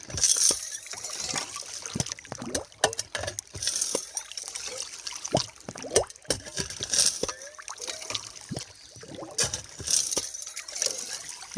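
Water splashes and trickles in irregular bursts as a yabby bait pump is dropped in front of a prospecting sluice, wet sloshing and dribbling close by throughout.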